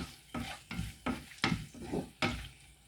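Cinnamon, cardamom, cloves and onion fry in a pan, heard as six or so quick, fairly quiet stirring scrapes at a regular pace over a faint background sizzle.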